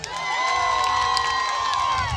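A large crowd at a music festival cheers and shouts loudly and without a break, with whoops and a sustained roar of voices and some clapping mixed in.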